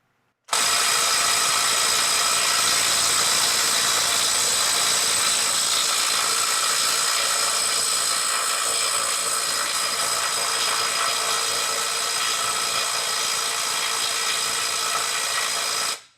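A Makita 18V brushless right-angle impact wrench runs on fasteners, a loud, steady, rapid mechanical hammering buzz held for about fifteen seconds, close up with no talking.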